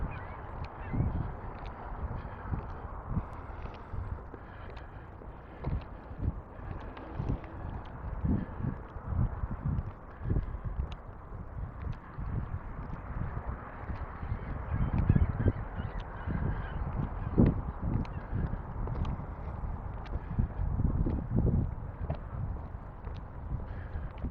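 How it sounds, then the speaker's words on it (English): Geese honk repeatedly at a distance along a lakeshore in Regina, against a constant outdoor background, calls scattered irregularly throughout. "Always lots of geese along here"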